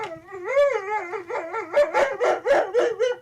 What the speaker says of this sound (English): My whiny puppy.